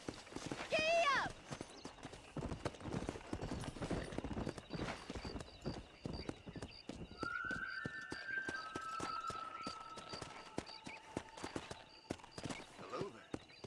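Galloping horse hooves in the video game Red Dead Redemption pound in a fast, steady rhythm throughout, with a short whinny near the start and voices talking over the ride.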